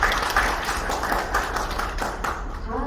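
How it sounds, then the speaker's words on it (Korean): Audience applause after a lecture on medical AI at a leadership forum in Daegu, a busy patter of many hands that fades toward the end as a voice begins to speak. "큰 박수 한번 부탁드리겠습니다"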